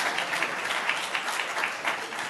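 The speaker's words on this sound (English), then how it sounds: "We applaud you." Audience at a business summit panel in Africa applauding, a dense, continuous patter of many hands clapping at moderate volume with no voices rising above it.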